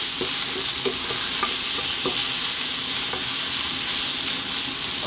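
Fennel, cardamom and garam masala powder get stirred into a lamb curry over high heat, a constant loud sizzle with a few soft scraping stir strokes and no talking.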